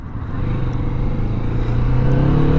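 A 2023 Kawasaki Vulcan S 650 Cafe motorcycle accelerates hard onto a highway, its engine note rising steadily and loud with no talking over it.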